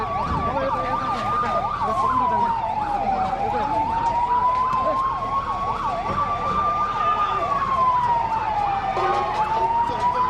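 A fire engine's siren wails loud and close during a fire drill in Bhaktapur, a continuous rising and falling tone held throughout over a dense, busy background.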